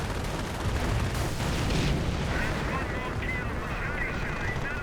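A rocket barrage hitting in a video game battle: a steady, heavy wash of booming impacts and gunfire rumbling on without pause, with a commentator talking over it.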